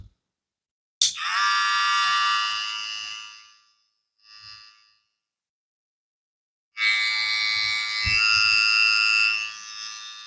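A Kemei KM-264 electric hair clipper switched on, a loud high-pitched motor whine running a few seconds and fading, a brief faint blip, then a second steady run after a pause of about two seconds.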